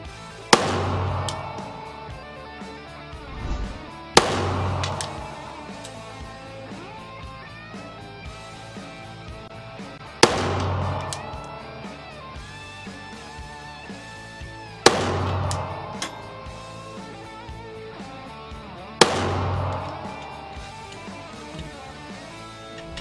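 Five sharp Glock 19 pistol shots with a 5.5 pound trigger, evenly spaced about four seconds apart, each a loud close crack with a ringing decay.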